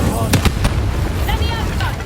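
A sharp burst of flame erupts from an Incendio fire spell in a Harry Potter magic video game, with crackling booms and whooshing magical effects during a battle, loud and close.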